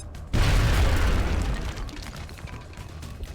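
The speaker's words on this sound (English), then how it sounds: "Now, I can throw that grenade" A grenade detonates in the strategy game X-Com: Enemy Within, a sudden heavy boom that hits after a short quiet and rumbles on, slowly fading into scattered debris and crackle.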